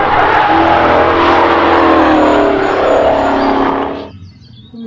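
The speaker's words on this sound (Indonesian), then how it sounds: "Ini adalah mobil balap." A toy race car whirs loudly and steadily for about four seconds, with a motor-like buzz and rising and falling pitch, then cuts off abruptly and leaves near silence.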